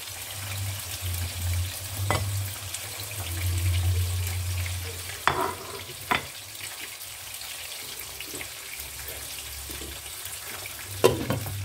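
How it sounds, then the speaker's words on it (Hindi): Minced meat keema cooking on low dum heat in a pot for iftar, a steady soft sizzle and simmer under a low rumble with a few sharp clinks of utensils, fairly faint and close. "10 मिनट पका लिया है इसको मैं दम पे रख रही हूँ।"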